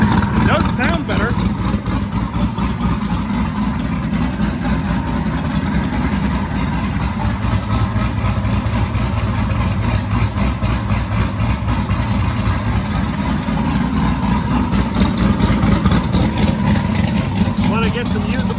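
A car engine idles steadily at about 70 kPa with a rough, pulsing low rumble, running continuously at a close distance without revving.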